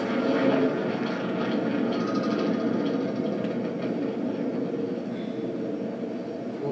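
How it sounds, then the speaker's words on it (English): Spaceship engines boost at full power in the space game Elite Dangerous during an escape from pursuit. A loud, steady, rumbling roar holds throughout and fades slightly toward the end, with no speech. "Full power to engines."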